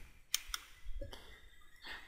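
A computer mouse clicking while working in 12d design software, two sharp close clicks early on, followed by quieter faint shuffling sounds.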